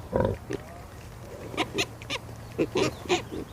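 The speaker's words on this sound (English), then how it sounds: "I don't think I've ever been this close to, I think, any pig, let alone this gaggle of adorable piglets" A gaggle of piglets up close, giving short grunts and squeals in quick bursts with brief pauses between them.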